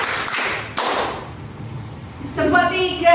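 A group claps in unison during a positive-culture classroom exercise, giving a few sharp, loud bursts of hand claps close by, with a voice in between.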